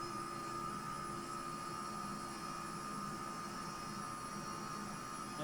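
Volkswagen ID.R electric race car in the racing game Project Cars 3 at the Nürburgring Nordschleife, a constant high electric whine with tonal hum that stays flat and unchanging, steady and alone.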